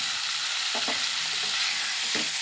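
Boneless chicken pieces added to a drumstick curry sizzle steadily in the pan, with a few soft stirring scrapes and clinks standing out over the constant frying hiss.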